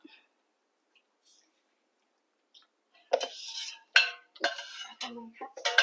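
Salt being stirred into water in a pot while preparing onsen eggs, heard as a few short scraping, clinking bursts after a quiet start, fairly close and moderately loud.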